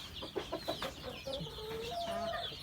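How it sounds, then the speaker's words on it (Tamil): Kadaknath and country chicks cluck and peep inside a brooding room, a dense, steady chorus of small bird calls with a few sharper peeps rising near the start. "கடகநாத்து கொஞ்சம் இருக்கும், நாட்டுக்கோழி கொஞ்சம் இருக்கும் நம்மகிட்ட"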